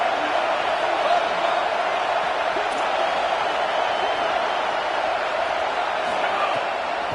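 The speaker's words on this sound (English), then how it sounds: "Here comes this home crowd as the defense tries to get off the field on third down." A home crowd roars steadily and loudly throughout a college football video game, a dense continuous wash of cheering noise with no breaks.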